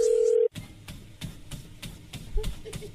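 A steady telephone dial tone holds for about half a second and then cuts off, followed by faint repeated clicks and tones of a phone call being placed.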